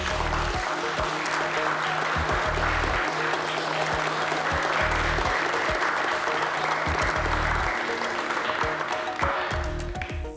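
A crowd at a charity auction breaks into sustained applause that continues steadily at close range for about ten seconds before trailing off.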